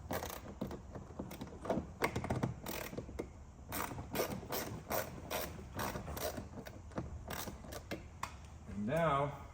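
Screws being turned by hand into a 2025 Range Rover Sport door panel, a run of faint irregular clicks and ratcheting scrapes, with a short squeak near the end.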